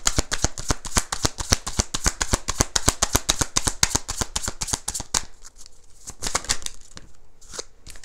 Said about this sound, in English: Let me get all your cards out.